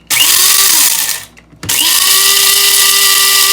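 Coffee beans are ground in an electric grinder, a loud close whirring roar that cuts out for a moment and then starts again at full strength.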